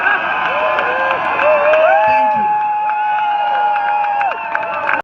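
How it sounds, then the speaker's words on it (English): An outdoor political rally crowd at the Michigan State Capitol cheers loudly, with drawn-out shouted and whooping voices rising and falling together over a steady crowd roar. "let's give a strong cheer"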